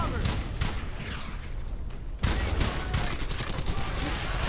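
Dense gunfire from Brothers in Arms: Hell's Highway, a chaotic battle with overlapping rifle and machine-gun shots crackling continuously at moderate loudness, with shouted voices mixed in.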